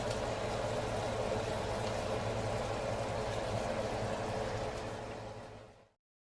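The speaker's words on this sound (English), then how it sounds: "Just put them to fry." Ingredients for egusi soup fry in a pan with a steady, dense hiss and bubbling that holds evenly before fading out, no speech.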